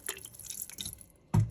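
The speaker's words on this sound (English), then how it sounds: "I'm gonna add some water just to stop it from sticking" Water poured into a pressure cooker over garlic, a short splashing pour near the end after quiet drips, close and brief.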